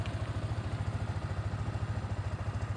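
A Yamaha Sniper 155 motorcycle engine idles steadily after its check engine error is cleared, a close, even, rapid low thumping with a faint clatter.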